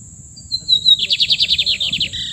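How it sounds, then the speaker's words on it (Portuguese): A single lined seedeater sings up close: a thin rising whistle followed by a quick, buzzy series of repeated trilled notes, loud and clear over quiet background. "O pássaro bigodinho possui o nome científico de Sopophila lineola"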